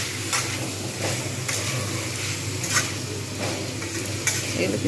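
Tomatoes and green peas fry in a kadai while being stirred. A steady, loud sizzle runs throughout, with regular spatula scrapes rising above it.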